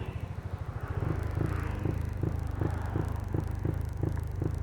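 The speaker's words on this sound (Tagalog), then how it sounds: "Pag pinihit natin yung throttle mga katribo, tingnan yung mangyayari." A Yamaha NMAX scooter engine with an aftermarket ECU set to a 3,000 RPM limit revs against the limiter, giving a low, steady engine drone pulsing in a regular stuttering rhythm, close and unbroken with no talking.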